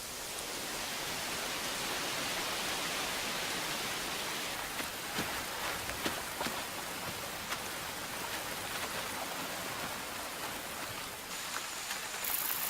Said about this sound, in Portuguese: A chuva persiste durante semanas.